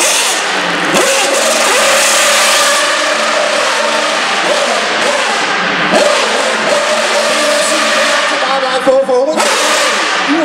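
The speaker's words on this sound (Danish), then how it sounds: "Sjældent man kan se en Formel 1-bil køre uden for en Formel 1-bane," A Formula 1 car driving on a public road outside a racetrack, its engine note loud and sustained, shifting through revs with a sharp change near the end.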